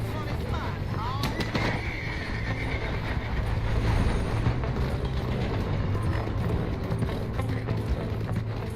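A horse gallops during a chase in Red Dead Redemption 2, its hoofbeats a steady rumble under continuous game noise, with a whinny early on and speech-like sounds mixed in.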